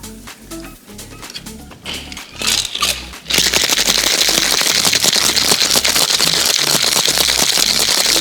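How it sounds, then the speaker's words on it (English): Ice rattles in a cocktail shaker, beginning with a few scattered clinks and then a loud, dense, rapid rattle of vigorous shaking that runs to the end. "Last process is gonna shake."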